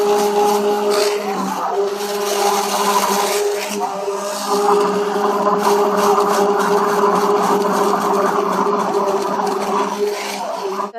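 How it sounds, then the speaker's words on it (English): An electric mixer runs steadily through cold process soap batter, a continuous whirring hum at even loudness with a slight grinding edge, close by and without talk. "we're going to take the mixer and we're going to just mix it for 30 more seconds to a minute"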